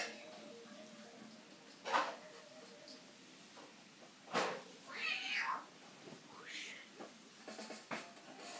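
A cat meows several times, short close calls scattered across a quiet room with faint game sounds behind, the louder cries rising and falling in pitch.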